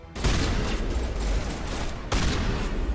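Loud bursts of shotgun fire in the game Mass Effect, a dense sustained volley that cuts off and then resumes abruptly, close and harsh with no voices over it.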